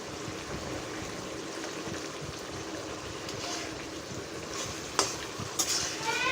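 Fish pieces frying in a cooked-down spiced tomato masala, a soft steady sizzle with a couple of brief clatters near the end, fairly quiet.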